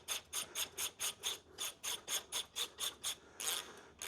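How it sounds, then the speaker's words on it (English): A hand crank ratchets steadily while an engine is tilted up in a garage during a vintage Camaro drivetrain swap, giving a quiet, rhythmic run of about fifteen clicking strokes. "Now I'm going to get my crank, tilt it up a little bit."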